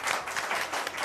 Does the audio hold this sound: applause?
yes